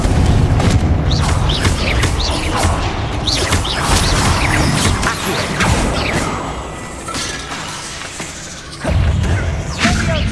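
Spell blasts in the Hogwarts Legacy video game with fiery magical bursts and heavy booming crashes, repeated loud impacts layered over a dense, busy game soundscape.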